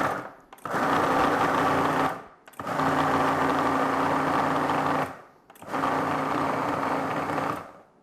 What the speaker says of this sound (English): I'm going to give this a quick blend here.